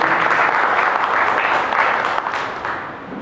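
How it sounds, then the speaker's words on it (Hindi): An audience at a gathering for the Mahabodhi Mahavihara liberation campaign applauds to welcome a Buddhist monk, a loud, dense, continuous wash of clapping that fades slightly toward the end. "प्रथमतः बंते जी के लिए आप सब तालियों के साथ उनका स्वागत करेंगे"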